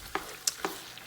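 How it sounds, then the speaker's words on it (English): Tomato paste frying in oil for party-style jollof rice, three short scraping stirs against the pot over a faint sizzle, close and quiet, no talk. "Now I'm adding my tomato paste into my oil, and I would fry everything together."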